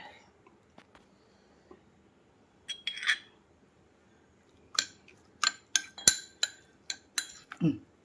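A spoon clinks against dishes while a little oil is added, giving a run of short, bright metallic taps that cluster in the second half, fairly close and alone without talk.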